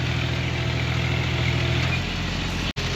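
A New Holland 3630 tractor engine runs steadily under cultivator load, a continuous low droning hum with mid-range vibration, close and fairly loud, briefly cutting out near the end.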